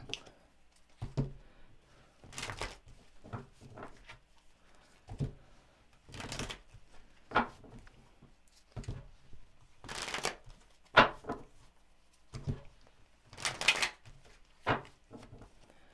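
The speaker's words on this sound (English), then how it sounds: "All right, one more shuffle." A deck of cards is shuffled repeatedly, each riffle a short crisp burst of flutter, coming in irregular clusters with quiet gaps between, close and clear.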